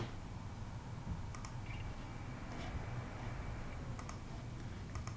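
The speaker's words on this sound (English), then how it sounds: "I can then type the grill size in and place the grill." Light keystrokes on a computer keyboard while entering a grill size in ductwork design software. A few faint, scattered clicks sit over a quiet background hum.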